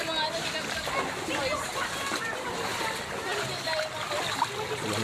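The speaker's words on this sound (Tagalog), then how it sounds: "Lakas ng tubig mga papa." Floodwater splashes and sloshes through a flooded residential compound in a constant, churning wash, with people talking nearby over the water.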